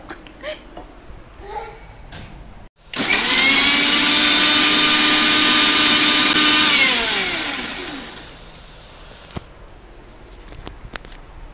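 A blender whips a mango shake with milk, roaring loud and close for about five seconds before winding down. Voices chatter faintly before and after the run.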